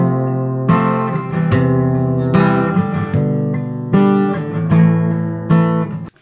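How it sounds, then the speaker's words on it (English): Close acoustic guitar strumming in a repeating pattern, the first and third strokes hit harder than the others, giving a pulsing accented rhythm; no talking. "if you emphasize the first and the third strum, it should sound something like this"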